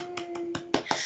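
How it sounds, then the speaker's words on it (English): A handful of short, crisp claps or snaps in a quick, uneven rhythm, made as a small online thank-you, sounding close and fairly quiet over a faint steady tone. "Do the little clapping thing that my students do."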